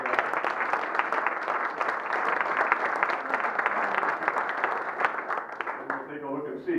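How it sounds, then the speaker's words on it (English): Audience applause at a Rotary club meeting: sustained, fairly dense clapping from a room of people, steady for several seconds before thinning out, with voices audible as it ends. "We should give those a special round of applause."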